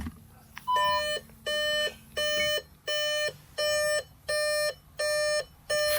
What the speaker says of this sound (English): you can turn the beeps off too, can't you?